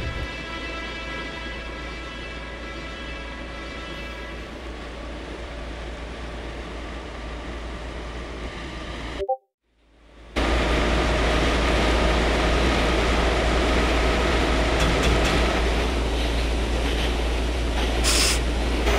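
A TTC subway train in a simulator game runs with a steady loud rolling roar and whine, drops abruptly to silence for about a second, then resumes with a dense continuous rushing hum as it arrives at a station.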